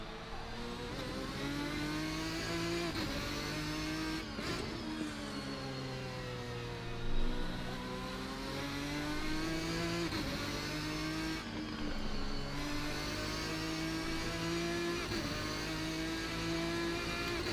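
A race car engine in the Assetto Corsa racing game, an RSS GT1 car at Road America, drones and revs continuously, pitch rising and falling through gear changes, loud and steady throughout.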